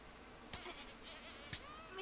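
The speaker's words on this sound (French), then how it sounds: "Il y a une mouche." A fly buzzes in the animated show Digital Circus, a faint high whine drifting in and out, broken by two sharp clicks about a second apart.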